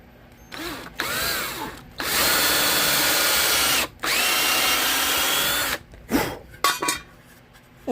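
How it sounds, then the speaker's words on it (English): A power drill whirs in several bursts, two long sustained runs between short starts and stops, close and loud, during a 220V AC outlet rebuild. "now I'll drill from back here."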